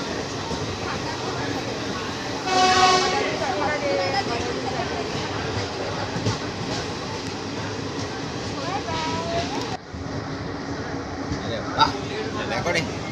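A Porbandar–Howrah special train moving through heavy rain gives a dense, steady rushing roar, with a brief louder swell early on and a slight dip partway through.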